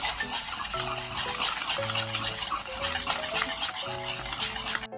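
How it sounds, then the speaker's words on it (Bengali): Cake batter with crushed Oreo biscuits being beaten in a bowl, a continuous brisk scraping and stirring with rhythmic clinks against the bowl, close by, while background music plays. "এবার ভালো করে ফাটিয়ে নেব।"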